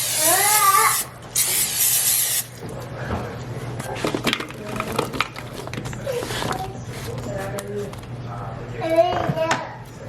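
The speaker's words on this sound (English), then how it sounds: "spray that with cooking spray." Two short bursts of cooking spray hiss loudly into a crock pot insert at the start, followed by clattering and a voice talking over the rest.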